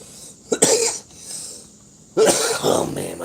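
Two rough coughing bursts, the second longer and followed by throat clearing, close to the listener with quiet pauses between them.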